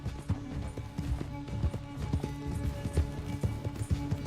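Horse hooves galloping at a steady rapid rhythm during a race in Red Dead Redemption 2, loud and close under a dense game soundscape with low rumbling.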